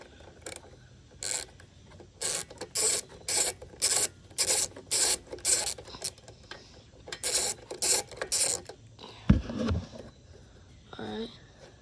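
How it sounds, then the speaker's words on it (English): A ratchet with a deep socket clicks in repeated rapid bursts, loosening a bolt on a Ryobi leaf blower assembly, followed by a metallic clunk as parts come free. "I'm gonna have to remove this bolt here to get the rest of the assembly off"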